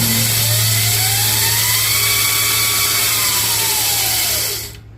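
A Razor MX500 electric dirt bike, upgraded from 36V to 48V, runs its motor on the high setting: a loud, steady, close whine whose pitch slowly climbs and falls, then cuts off abruptly near the end.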